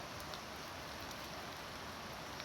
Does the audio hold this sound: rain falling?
yes